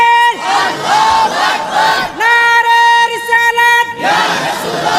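A large crowd at a Bengali Islamic sermon shouts the takbir response in unison, loud repeated chanted calls rising in several waves with brief gaps between them.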